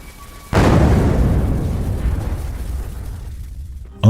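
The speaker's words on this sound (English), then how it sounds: "causing a massive explosion. The blast shakes the entire area." A sudden loud explosion booms out, followed by a long rumbling decay that slowly fades over several seconds.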